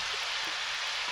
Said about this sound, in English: It's raining water.